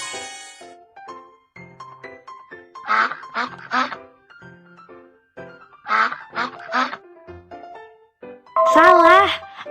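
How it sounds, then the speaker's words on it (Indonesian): Duck or goose-like honking calls ring out in loud bursts between stretches of speech, with one long, strong call near the end. "Bebek."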